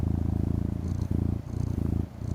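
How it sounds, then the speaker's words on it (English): A happy cat purr played from a purr app, a close, loud, rhythmic rumbling purr that pulses steadily in quick cycles with brief dips between breaths, with no voices. "This is a happy purr."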